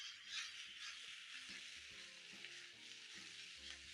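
Mixed vegetables, zucchini among them, sauté with oregano in a hot pan, giving a steady close hiss and sizzle. Soft rhythmic scraping and tossing sounds come through it at regular intervals.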